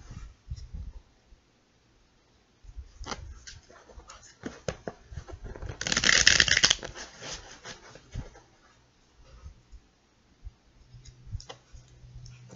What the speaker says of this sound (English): I think we have 3 more shuffles in there